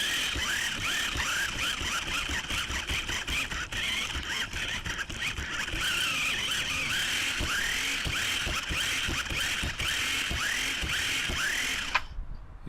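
The electric motor of a stuck Maisto Extreme Beast RC car whines continuously and loudly nearby while its wheels spin in place, with rising and falling squeals and gritty scraping, before it cuts off abruptly near the end.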